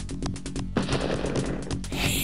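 Rapid gunfire from the police video game Police Quest III, a loud burst of repeated shots with a sharper blast midway, set over steady game background tones.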